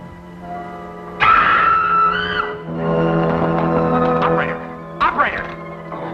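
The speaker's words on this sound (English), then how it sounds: "I just heard his daughter scream and then the phone went dead" A woman's shrill, sustained scream from a 1942 Captain Midnight radio serial rings out loudly over a dull background hum, then gives way to muffled voices and another brief cry.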